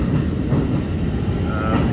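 A train rumbles past close by in Japan, a steady dense low roar with rolling wheel clatter filling the whole two seconds without a break.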